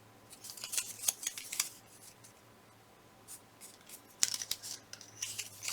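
Paper pieces being folded in half for a scrapbook flower layout, a series of close, soft crinkling and rubbing rustles in two bursts, with no talking.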